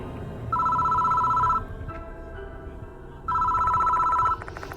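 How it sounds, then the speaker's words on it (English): A desk telephone rings in the horror game Death Mark 2, two loud electronic trills about a second long separated by a short pause, heard alone without voices. "The phone on the desk is ringing."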